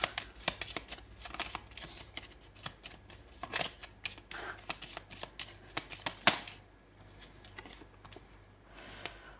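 Tarot cards are shuffled by hand nearby, a steady patter of riffling and sliding card flicks with occasional sharper snaps, moderately quiet and without speech.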